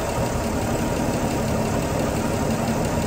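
A car engine idles steadily with the transmission in drive and the drive shaft spinning, giving a constant dense rumble and hum with no breaks.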